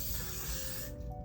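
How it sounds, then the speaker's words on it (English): Hairspray is sprayed generously over a 1960s beehive hairstyle. A close, continuous aerosol hiss runs through the whole moment, then thins slightly at the end. "it's now time to apply hairspray very generously"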